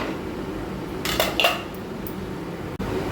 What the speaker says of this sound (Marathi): आपण आता झाकण उघडू